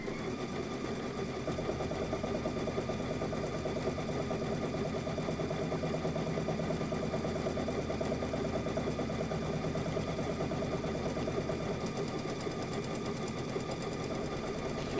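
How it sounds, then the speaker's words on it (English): A sewing machine runs steadily for the full stretch, stitching a straight placement line on a quilt border with no backstitching, a continuous mid-pitched whirring hum without pauses or voices. "This is just a placement line, so I'm not going to go back any stitches."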